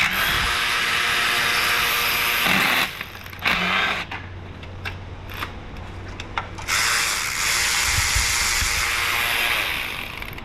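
A ratchet wrench with an extension clicks in reverse while working on a damaged Ford 3.0 V6 EcoDiesel engine, a loud, close rasping rattle in bursts separated by brief pauses and scattered metallic knocks, with no talk.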